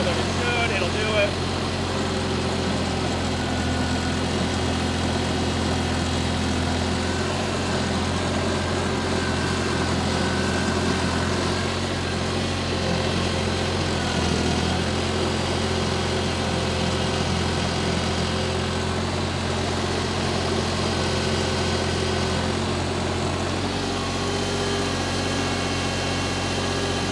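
An LT25-2 stand-on skid steer loader's engine runs close by at a steady idle-like drone, a continuous low rumble with mid-range mechanical hum for the whole stretch.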